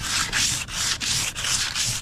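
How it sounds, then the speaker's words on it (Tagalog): Rhythmic rasping strokes of thin sandpaper rubbing on damp wood, about six even back-and-forth passes, close and steady with no voices. "Pinadaanan uli natin ng isang padaanan liha na manipis."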